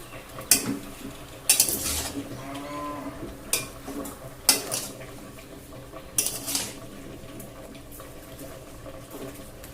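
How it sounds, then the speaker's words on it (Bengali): A spatula scrapes and clatters against a wok while taro stalks are stirred in a village-style kitchen, in sharp bursts between quieter stretches, with a cow mooing in the background. "এখন কচু ডাঁটাগুলোকে আমি খুব ভালোভাবে একটু নেড়ে চেড়ে দিচ্ছি।"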